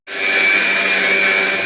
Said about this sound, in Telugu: బియ్యం మిక్సీ పట్టుకుంటాను.